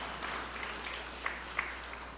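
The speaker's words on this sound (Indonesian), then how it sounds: "Berikan tepuk tangan yang meriah." A church congregation claps during a sermon, producing a soft, even wash of applause from a distance, with a couple of sharper individual claps standing out against a low hum.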